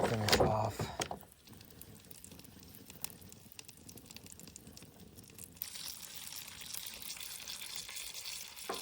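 Food frying in butter in a pan at a solo truck campsite in the pines gives a soft, steady sizzle that swells slightly louder partway through, heard close up after a brief clatter at the start.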